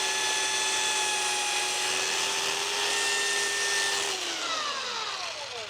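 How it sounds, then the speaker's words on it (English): A power sander whines at a steady high pitch, then its tone drops and shifts as its sanding pad presses against a cleaning eraser. "I got a dirty sanding pad right now, so turn it on like this, and then just run it sideways"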